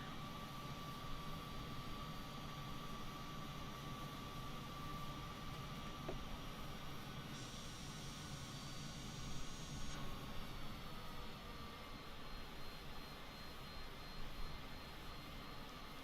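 Steady, loud aircraft engine drone from Microsoft Flight Simulator 2020 at full throttle on a flight out of Bermuda, a continuous broadband roar that stays constant for the whole stretch with no talking.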